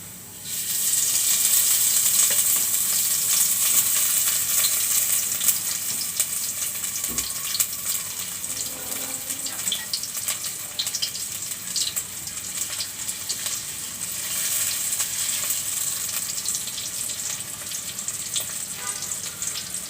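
Onion and green chili frying in mustard oil in a cooking pot, a steady bright sizzle running the whole time, close and fairly loud, with faint stirring and clinks and no talk.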